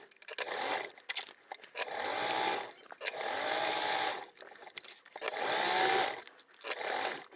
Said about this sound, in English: So we are just basting this on. So this is just with a 1/8 seam allowance.